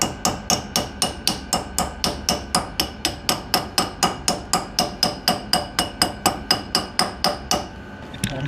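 A hammer drives a wheel bearing cap back onto a 1977 Bali tilt deck trailer, with about thirty loud, close, evenly spaced metallic blows in a steady fast rhythm, then a pause.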